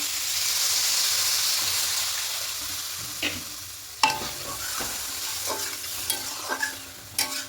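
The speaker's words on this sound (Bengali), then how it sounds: "ঠিক এই সময়তে জলটা অ্যাড করবো।" Water poured into spiced potatoes frying in a pan gives a loud, broad hiss of steam that fades over a few seconds, then a quieter sizzle with several sharp scraping stirs close by.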